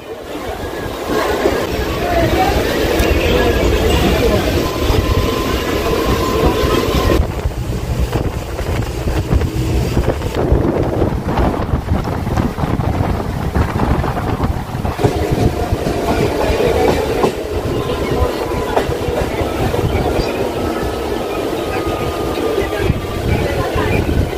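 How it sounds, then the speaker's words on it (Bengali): Continuous rumble and rattle of a local train departing a station, heard from inside, with wind buffeting and periodic clatter as it rolls along, voices talking over it. "এই মুহূর্তে আমাদের এই ট্রেন বেরিয়ে যাচ্ছে শ্রীখণ্ডের উদ্দেশ্যে"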